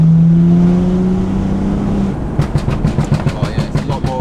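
A 450 hp BMW M2 with an aftermarket exhaust accelerates in fourth gear from 3,000 RPM. A loud droning engine note climbs, then gives way to rapid rhythmic pops and crackles from the exhaust.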